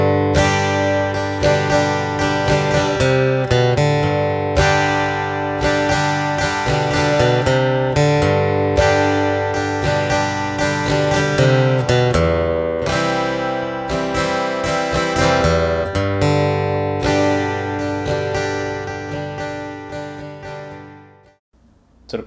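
A song intro picked on guitar, a repeated lick of ringing notes that plays steadily and fairly loud with no talking, then fades out at the end.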